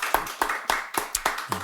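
A church congregation claps in thanks during a Sunday worship service, six sharp, evenly spaced hand claps ringing out close and alone.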